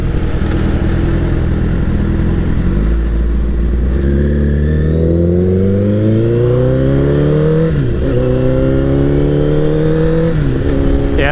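A 2015 Honda CBR1000RR Fireblade sportbike engine pulls hard through the gears, its loud, close whine climbing in pitch, dropping briefly at each shift and rising again under steady wind rush.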